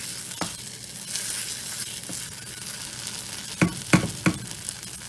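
Masala sizzling and frying in a pan, a steady soft hiss broken by a few sharp scraping stirs of a spoon near the end.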